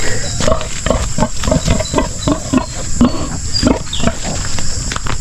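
Piglets squealing and grunting in a pen, a loud close chorus of repeated overlapping squeals in an irregular rhythm, continuous throughout.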